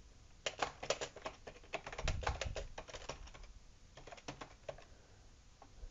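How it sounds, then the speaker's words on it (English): Message being typed on a computer keyboard, with quick clusters of close, crisp key clicks, a brief pause, then more bursts of keystrokes. "you can type your message"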